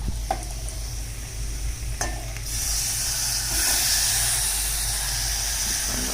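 Potato chips frying in hot oil, a continuous hissing sizzle that swells louder partway through, heard close with a few faint clicks early on and no speech.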